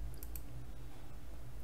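Computer mouse clicks at a desk: two or three quick, soft clicks close together at the start, then only faint room hiss.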